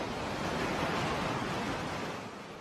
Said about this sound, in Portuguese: As ondas batem forte na areia.